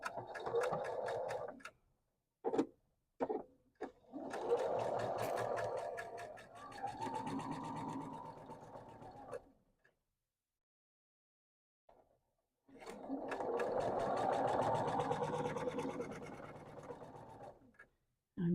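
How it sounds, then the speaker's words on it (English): A sewing machine stitches bias binding on the straight of grain with a 1/4 inch seam allowance, running in a few short bursts near the start and then in two longer steady runs separated by silent pauses. "Now I am actually sewing this on the straight of grain"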